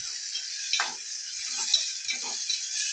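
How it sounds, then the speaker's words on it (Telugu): Tomato pieces cook in hot oil with a steady, bright sizzle. Several soft stirring scrapes come through close by. "టమాటా ముక్కలు ఒక 2 నిమిషాలు మగ్గించుకోవాలి."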